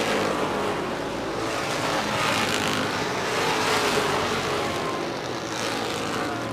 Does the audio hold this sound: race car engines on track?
yes